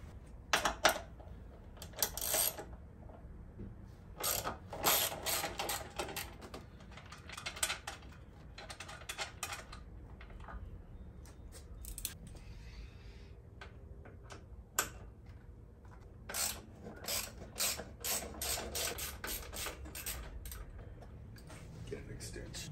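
Ratchet wrench clicking in short irregular bursts while bolts come off a Harley, with sharp ticking close by over a low background hum and brief pauses between runs.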